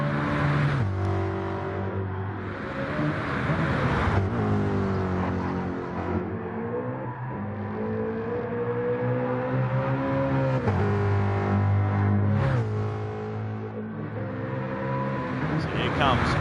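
A Ford Mustang Gr3 race car laps Mount Panorama at Bathurst in a racing video game, its engine droning and rising and falling through gear changes under steady commentator talk.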